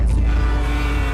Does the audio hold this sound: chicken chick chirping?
no